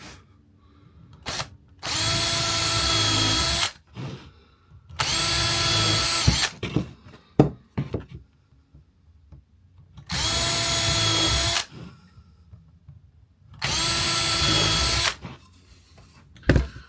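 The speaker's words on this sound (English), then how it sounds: "my holes are pre-drilled there, so now I'll countersink them" Power drill countersinking pre-drilled screw holes in a rustic wooden Christmas sign, heard as four loud, sustained whirring bursts of about two seconds each, separated by short pauses with faint clicks and handling noise.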